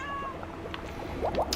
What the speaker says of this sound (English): The good news is the cat's alive.